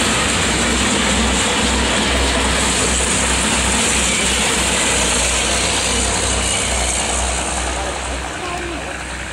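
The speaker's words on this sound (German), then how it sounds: "Jetzt kommt gerade die eine Lok" A locomotive arrives at the DB Museum in Koblenz-Lützel, its engine rumbling steadily and loudly with mechanical rattling, and people talk close by.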